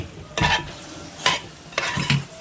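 Beef fry with ground pepper stirred in a pan, three distinct scraping strokes over a steady sizzle, close and fairly loud with no speech.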